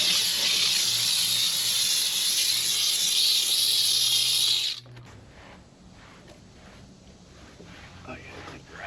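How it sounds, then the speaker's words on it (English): A Harbor Freight steam cleaner blasting old Chrysler parts, a loud steady hiss for several seconds that cuts off abruptly, followed by quieter brushing and room noise. "And then we've got our Harbor Freight steam cleaner."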